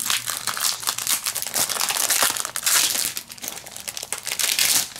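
Plastic packaging of a Diamond Press tropical layered stamps and dies kit being opened, with loud, continuous crinkling and crumpling close by for several seconds, no speech over it.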